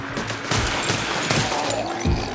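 Rapid pistol fire from a Desert Eagle in a zombie shooter video game, a loud dense burst of shots packed close together across the whole stretch.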